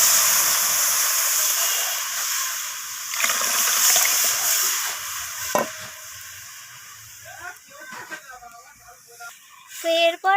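Cooked masoor dal is poured into a pan of fried onion and garlic with radhuni tempering, giving a loud hissing sizzle that settles into quieter bubbling, while a person talks over it.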